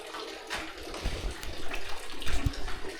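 Water runs from a tap in a town setting, a steady splashing flow with a few louder surges, close and alone without talk.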